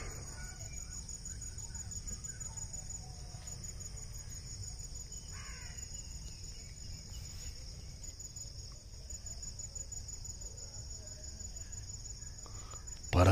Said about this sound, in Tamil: பறவைகளின் இனிய குரலோசையில்